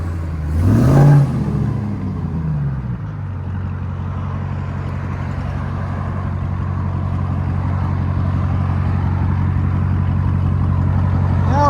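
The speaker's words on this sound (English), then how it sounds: "Let's see if it'll launch." A RAM TRX pickup with an aftermarket exhaust launches: a short loud rising burst of engine roar, then a steady droning rumble that swells slowly as it pulls away.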